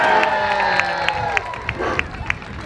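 A street show audience in San Francisco cheers and claps loudly, with a steady crowd roar, scattered shouts and sharp, regularly spaced claps running throughout.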